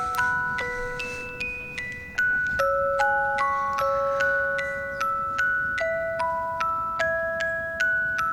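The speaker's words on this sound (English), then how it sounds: "The xylophone is beautiful." Xylophone notes ring out one by one in a bright, bell-like melody from a live performance of a song, each struck tone decaying in a steady stepwise rhythm, clear and alone with no talking.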